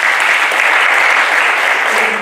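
Dense, sustained applause from an audience at a slam poetry and spoken-word event, loud and even across the whole stretch with no break.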